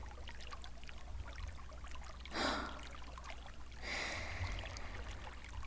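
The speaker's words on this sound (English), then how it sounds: "I like sinking into the water." Hot-spring onsen water swirling and splashing softly as a body sinks into the bath, with two gentle surges of lapping water over a low, steady ambient hum.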